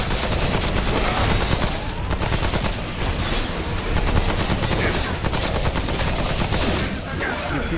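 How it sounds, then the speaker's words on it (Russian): Sustained machine gun fire in the video game Remnant: From the Ashes rattles on continuously in fast, dense bursts, loud and close, with someone talking briefly over it. "Пулемет, фига себе, тут и пулемет есть."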